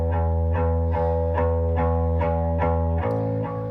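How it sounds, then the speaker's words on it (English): A bass guitar with slight distortion chugs in a steady, even pulse of repeated low notes, loud and up front, shifting to a lower note near the end. "they always had this like really cool like chugging bass guitar that goes throughout them with like a little bit of distortion"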